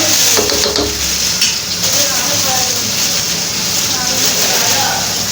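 Tomatoes fry in a pan with crisped meat, garlic and ginger, giving a steady loud sizzle with stirring scrapes throughout and a voice talking over it.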